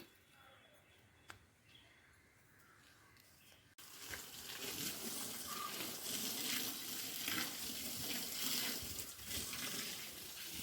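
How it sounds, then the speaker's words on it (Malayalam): Water pours onto dry soil over newly planted beans, a quiet start followed by a sudden steady splashing rush that continues close by, with a voice speaking faintly in the background. "നന്നായിട്ട് നനച്ചു കൊടുക്കണം കാരണം ശരിക്കും ഉണങ്ങി കിടക്കുവാണ്"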